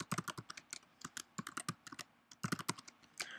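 Someone types a password on a computer keyboard, producing a steady run of quick, crisp key clicks with short pauses between bursts, close and clear in a quiet room with no talk.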